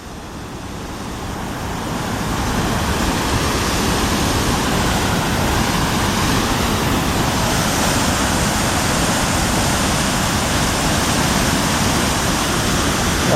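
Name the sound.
Tahquamenon Falls waterfall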